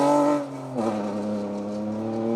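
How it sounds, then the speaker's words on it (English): Two-wheel-drive Mark II Ford Escort rally car on a rally stage, engine note loud and close then dropping in pitch as it shifts or passes, followed by a steady fainter drone. "in a car that has a bark far bigger than it ought to"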